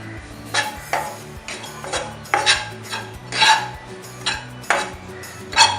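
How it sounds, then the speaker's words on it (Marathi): Grated fresh coconut being roasted in ghee in a pan, with a spoon scraping and clinking against the metal in irregular bursts about once a second, close and clear with no talking. "ओल्या नारळाचा केस टाकूया साधारण एक वाटी आणि ह्याला चांगल्या प्रकारे या तुपामध्ये भाजून घेऊया"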